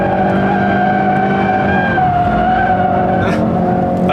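A 2016 Ford Focus RS with 350 PS drifts sideways at speed, a loud, sustained tire squeal over a steady engine drone, close and continuous without talk.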